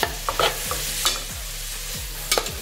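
Chopped onion sautés in a pan for Andhra mutton curry, a steady close sizzle broken by about five scraping spatula strokes at uneven intervals, with no voices.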